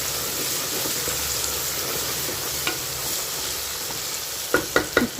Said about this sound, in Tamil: இப்போ பாருங்கள் நல்லா தக்காளி வதங்கி வருது